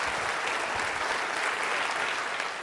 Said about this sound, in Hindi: उनके सम्मान में तालियां जोरों से बजाइए।